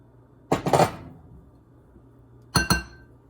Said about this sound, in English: Let's add in the onion masala to the potatoes.